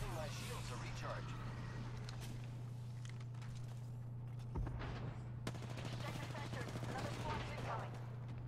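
Sustained automatic gunfire from an Apex Legends firefight rattles through the whole stretch, dense bursts with sharper cracks near the middle, layered over constant game background noise.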